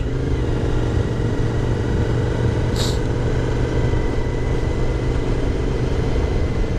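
A Suzuki motorcycle engine idles nearby, a loud, steady low rumble that holds an even pitch throughout, with one brief faint high chirp partway through.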